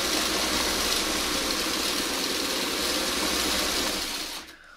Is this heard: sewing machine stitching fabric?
yes